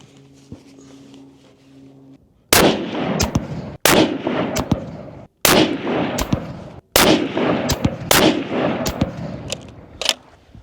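Rifle shots fired at a 100-yard target, with six or seven loud, sharp reports spaced about a second apart, each trailing a short echo over a quiet outdoor background.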